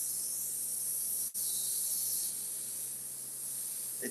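An airbrush sprays watercolor paint at about 36 to 37 PSI with a steady, close, high-pitched hiss. It cuts out for a split second near the start, then keeps going.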